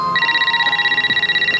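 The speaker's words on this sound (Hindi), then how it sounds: "ये किसका फोन आ गया?" An electronic telephone ring tone trills steadily and moderately loud in a room, with a low hum beneath and no speech over it.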